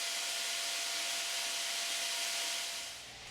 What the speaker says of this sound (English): excavate the foam with a drill